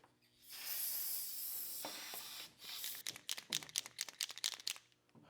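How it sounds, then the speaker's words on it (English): An aerosol can of brake cleaner sprays in a long continuous hiss, then several short sharp bursts, cleaning oil off an engine during a 3.6 Pentastar rocker arm replacement, close up with no talking. "So I'm going to take some brake cleaner and spray off the oil"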